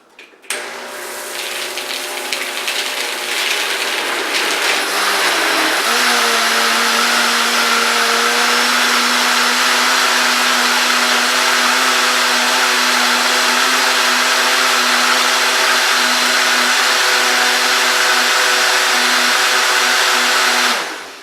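A blender whirs through a green smoothie of parsley and kale, starting with a short rough churn before settling into a loud, steady high-speed whine that runs unbroken until it cuts off at the end.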